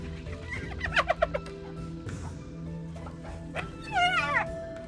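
A hyena lets out its laughing call, with bursts of rapid staccato giggles early on and a wavering, warbling cry near the end, moderately loud over a low rumbling background.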